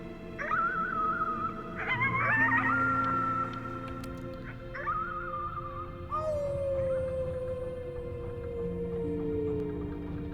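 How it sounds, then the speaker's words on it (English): A long, loud howl at the moon in the game Before Your Eyes, several drawn-out wavering cries that rise and then glide slowly down over a steady background drone. "You howled at the moon, at the top of your lungs."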